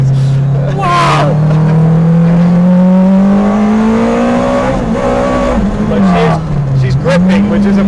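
A Yamaha FJ1200 motorcycle engine in a kei truck revs hard and close toward 13,000 RPM, its high buzzing note climbing and dipping steadily, with wind noise and a voice briefly over it.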